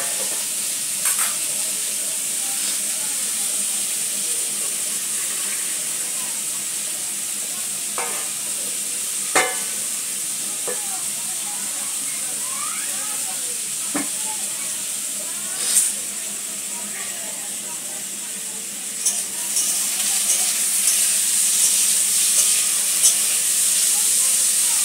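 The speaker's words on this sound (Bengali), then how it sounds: "एखन आलू तेल दिए भाजा होच्छे" Potato pieces fry in oil in a home kitchen, giving a steady close hiss and sizzle for the whole stretch with scattered sharp pops and crackles.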